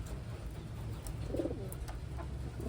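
Pigeons from Taiwan give soft, low cooing calls, a brief burst of coos over a dull, steady background.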